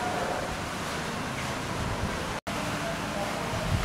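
A fountain at the Venezzia Hua Hin attraction splashes with a continuous, broadband rush of falling water, loud and close, cut by a brief gap partway through.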